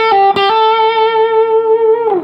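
Distorted electric guitar plays a blues rock lick at full speed in an A-shaped blues scale position, a few quick picked notes then one long sustained bending note ringing out alone, loud and close.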